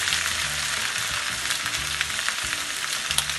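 Roasted potatoes and spring onions sizzling loudly in a hot pan as they are tossed, with a dense continuous crackle and soft scraping stirs close up, and no talking.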